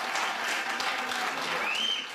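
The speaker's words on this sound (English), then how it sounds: "get a big round of applause for those who are striking in June." Applause from an audience at a rally backing striking Parkdale tenants withholding rent, a steady broad wash of clapping that holds at even strength for about two seconds.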